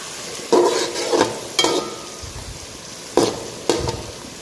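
Tomatoes with ginger-garlic paste, cinnamon and chili fry in a pan, with a soft steady sizzle and several sharp scraping stirs of a spoon against the pan in irregular bursts, close and moderately loud.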